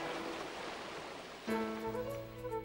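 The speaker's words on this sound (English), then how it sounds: "I love the sound of a stream as it goes by." Running water of a natural stream flowing by outdoors, a steady broadband wash; about halfway through, tonal hum and noise join over the flow.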